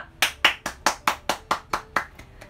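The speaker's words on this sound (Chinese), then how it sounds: "鼓掌！" About ten sharp hand claps from one person in an even, quick rhythm, close and clear, with no talking.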